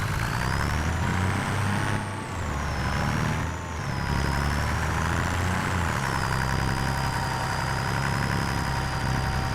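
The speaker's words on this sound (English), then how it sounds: "I'll just run this one up with the tractor." Tractor engine from Farming Simulator 25 running steadily at close range, a continuous low rumble with a rising and falling whine as it drives, brief dips in loudness, no talking.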